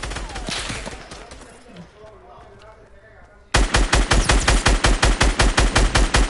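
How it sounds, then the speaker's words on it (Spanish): A short, distant burst of gunfire, then a lull, followed by loud sustained automatic fire in rapid, evenly spaced shots. "Ahí va, donde lanzan los disparos"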